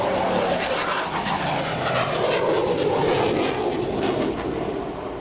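A Eurofighter Typhoon jet makes a flying display at the Waddington airshow, its engine a loud, continuous roar that swells and shifts in pitch as it passes overhead.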